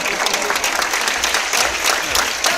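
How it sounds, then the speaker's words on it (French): Crowd applause at a dolphin show at Marineland Antibes, dense and continuous, with some voices mixed in underneath the clapping. "on va quand même l'encourager par des applaudissements"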